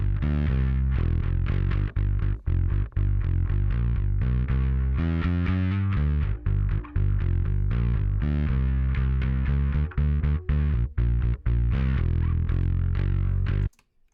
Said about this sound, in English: Let's go to the last sound here, which is the Aguilar TH500 post EQ with the Dark Glass X7